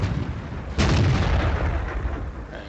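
A tank cannon fires in World of Tanks: one loud, sudden boom partway through, with a rolling rumble trailing off over the next two seconds behind steady game background noise.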